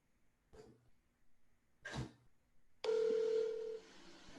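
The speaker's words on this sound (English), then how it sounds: "Can you all at least hear the phone ring?" A telephone ring tone comes through a conference call line at a planning and zoning meeting: one steady, loud tone lasting about a second, preceded by a couple of short, faint rustling noises.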